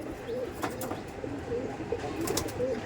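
Pakistani Teddy pigeons coo softly in a few short, low burbling phrases, close by over a steady background hiss, with no talking.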